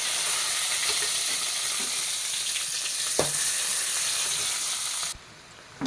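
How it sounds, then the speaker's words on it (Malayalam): Mustard seeds, onion and garlic frying in oil in a pan, a loud continuous close sizzle with a couple of sharp stirring knocks before it suddenly drops to a quieter hiss near the end. "ഇതാ ഒരു ചട്ടി വെച്ചു അതിൽ ഓയിൽ ഒഴിച്ച് കൊടുത്തു കടുക് ഇട്ട് കൊടുത്തു ഇതാ ഒരു സവാള ഇതാ ചെറ വെളുത്തുള്ളി"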